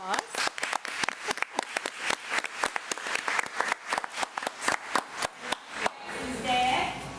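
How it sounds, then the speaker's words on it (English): Clapping from a crowd at a school board meeting, applauding a young student from an early childhood center; dense, steady applause lasts about six seconds, then fades into murmuring room noise. "So let's give Jackson another round of applause"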